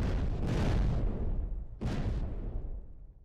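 Two heavy bomb blasts go off in the space game Space Crew: a long rumbling explosion, then a second sharp burst about a second later that fades out.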